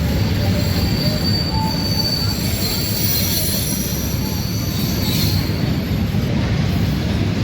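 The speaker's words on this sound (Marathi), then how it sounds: "बघू शकता या ठिकाणी रेल्वे जी आहे ती ट्रका घेऊन जात आहे" Konkan Railway train carrying trucks on a monsoon run near Dudhsagar, close and loud, with continuous shrill wheel squeal riding over a heavy steady rumble throughout.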